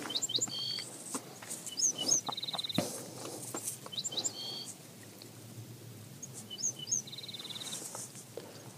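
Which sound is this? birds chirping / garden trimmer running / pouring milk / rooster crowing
birds chirping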